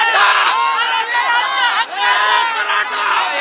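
A dense crowd at a Manoj Jarange Patil rally fills the air with loud, continuous overlapping voices and chatter, with many people talking at once close by and no pauses.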